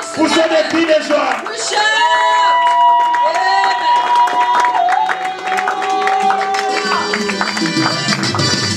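A church congregation cheers and acclaims its pastor with loud, sustained crowd noise, whoops and clapping, mixed with raised voices and sung tones throughout.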